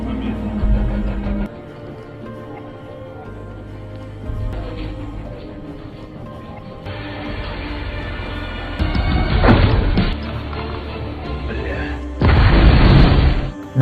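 Explosions in a sniper action film scene, heavy booming blasts with crashing debris bursting out twice near the end amid tense score.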